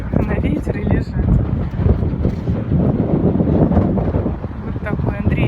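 Strong gusting wind in Gelendzhik buffets the microphone with a loud, continuous roar that swells and dips, and a voice talks over it.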